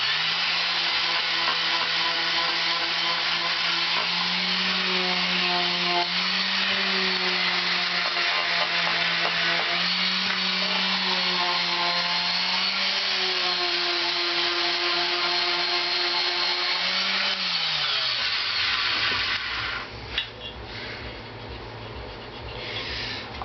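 A power tool grinds the surface of a Honda CX500 engine part being restored, a loud continuous whining drone that holds steady for most of the clip, dips in pitch, then stops, leaving scattered clatter.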